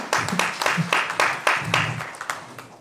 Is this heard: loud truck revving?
no